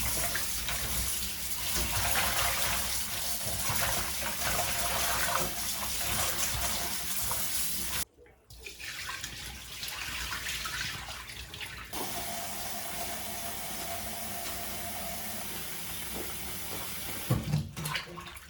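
Tap water runs into a sink as greens are rinsed in a home kitchen, a steady splashing rush that breaks off briefly, then resumes with changing flow, close-miked and without talk.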